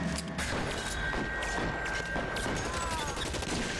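Tommy gun fire during a shootout in the L.A. Noire video game, a loud continuous burst of rapid automatic shots with crashing impacts, steady for the whole stretch.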